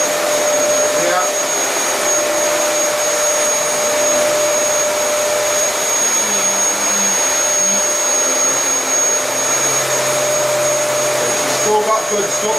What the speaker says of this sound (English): So you can hear the brush roll is actually hitting the carpet.